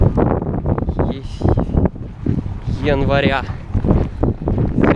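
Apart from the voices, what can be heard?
wind blowing into the microphone outdoors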